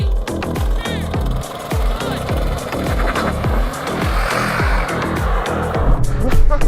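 Audi RS6, BMW M5 and AMG E63 drag racing, loud rapid rhythmic engine pulses with repeated gear-shift bursts, close and harsh, building slightly toward the end.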